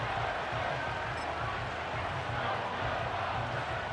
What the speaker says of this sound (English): We can feel this crowd all the way up here in the press box, Mike.